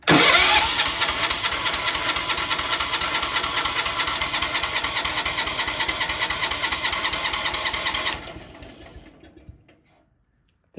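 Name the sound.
John Deere 210 garden tractor engine cranking and starting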